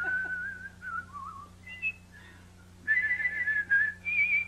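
A person whistles a wavering tune in two phrases, a longer melodic run, a short pause with a few scattered notes, then a brighter, louder passage, heard alone over a low steady hum.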